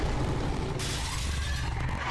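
Glass shatters loudly in The Wolf Among Us video game, a sudden crash at about three quarters of a second followed by a bright, sustained spray of falling shards over a low rumbling background.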